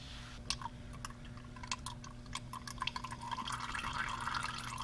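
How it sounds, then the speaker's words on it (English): Hydraulic oil dripping and trickling from a filter on a John Deere 1025R/1023E compact tractor, faint irregular drips over a low steady hum, growing slightly busier toward the end. "I was hoping to let that entire filter drain before I took it off. Maybe it's slowing down."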